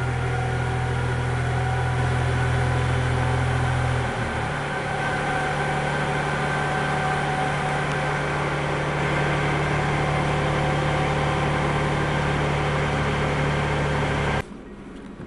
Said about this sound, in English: He's running it through a series of like climbing hills and driving at certain speeds on the roadway